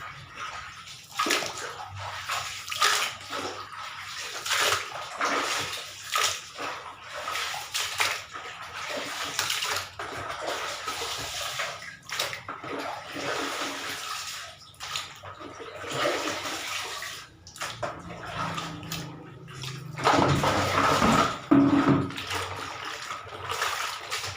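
Squid being rinsed and soaked in alum water, with steady running and splashing water like a filling basin or tap, continuous through the clip and louder near the end, no talking.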